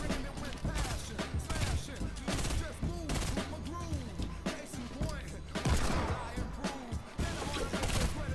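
Fortnite battle royale gunfire crackles in rapid bursts and scattered single shots throughout a busy firefight, mixed with game effects, with people talking over it.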